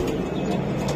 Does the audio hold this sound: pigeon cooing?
yes